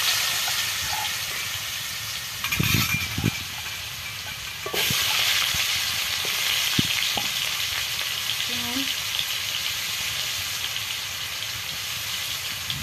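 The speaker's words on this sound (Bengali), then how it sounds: "আলু দিয়ে সুন্দর করে ভেজে নেবো আলু।" Potatoes frying in hot oil in a pan for a Bengali river tengra fish dish with mustard, a steady close sizzle and hiss throughout with a few brief clatters of a utensil.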